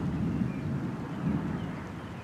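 Low, distant rumble of thunder from an approaching storm rolling across a quiet outdoor boatbuilding site, faint and sustained with a soft swell near the end.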